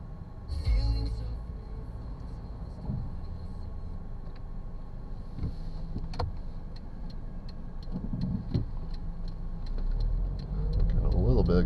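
A 2013 Kia Soul on a short drive, its engine a low, steady hum under a regular ticking, with faint murmured voices inside the cabin.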